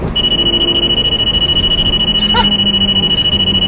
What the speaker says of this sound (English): Got a Valentine 1 radar detector.